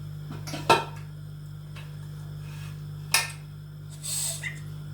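A pressure cooker lid is set and clanked onto a metal pot holding soaking chana dal with goat meat, giving sharp metallic clicks and clatters over a constant low hum, close and fairly quiet.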